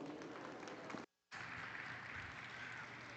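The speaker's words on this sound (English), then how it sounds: "please give them a nice round of applause" A crowd applauding at a junior market goat showmanship class at the National Western Stock Show, steady dense clapping, briefly cut off by a short silence before resuming just as full.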